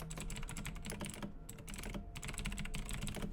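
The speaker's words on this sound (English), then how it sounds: "Oh, he's typing" Rapid keystrokes clatter on a computer keyboard during an online tabletop role-playing game, a quick flurry of close, quiet clicks broken by two brief pauses, with no voices.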